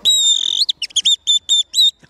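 Whistled imitation of a song thrush, made with a small whistle device held on the tongue: one long warbling note, then a run of short, bright, repeated chirping phrases, loud and close with no talking.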